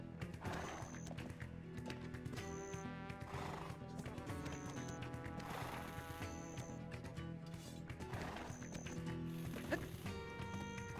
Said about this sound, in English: There's nothing here but horses.